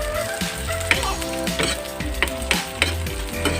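Sayote sizzles steadily in a hot pan with garlic sauté, while a utensil stirs and scrapes in irregular clinks and scuffs, close and clear with no talk.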